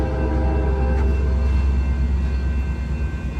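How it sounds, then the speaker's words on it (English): Amtrak San Joaquin passenger train pulling away from the Oakland Jack London Square station, a steady loud low rumble of engine and rolling cars with no talking. "And there it goes, folks. That train is going to Bakersfield."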